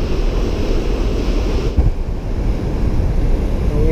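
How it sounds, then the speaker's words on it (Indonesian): Large waves roar steadily on a southern-coast fishing beach, a continuous loud rumble of surf under heavy gusting wind that buffets the microphone, with no voices. "Ombaknya sering besar."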